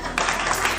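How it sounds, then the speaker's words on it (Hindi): Audience applause in a TV studio, a short burst of dense clapping from many hands, moderately loud, with faint voices mixed in. "ये तालियां बजी"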